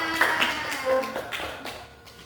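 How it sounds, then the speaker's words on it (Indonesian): A classroom of students claps briefly at a teacher's prompt, a short burst of hand claps that thins out and fades within a couple of seconds. "Oke, tepuk tangan."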